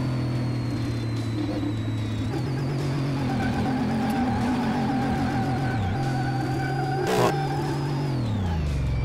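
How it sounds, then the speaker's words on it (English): A 10,000 HP Beck Kustoms F132 spinning donuts on slick tires in Car Mechanic Simulator 2018, its engine holding a steady high drone with pitch dips and surges as the throttle shifts, plus a brief sharp burst near the end, loud and close. "It's hard to do donuts on slicks."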